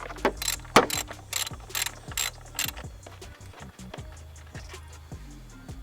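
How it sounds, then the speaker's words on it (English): A 10mm ratchet wrench clicks rapidly in short bursts as it turns a bolt by the battery box of a Volkswagen GTI, with quick repeated strokes of metallic ratcheting close to the ear. "Tighten it up with our 10mm ratchet wrench."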